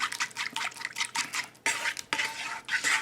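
Garlic Parmesan sauce being stirred in a bowl, a utensil scraping and clinking against the sides in quick, uneven strokes, close and clear with brief pauses between bursts.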